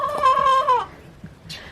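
Backyard chickens squawk up close: one loud, drawn-out harmonic call lasts nearly a second, followed by quiet rustling and a faint short chirp.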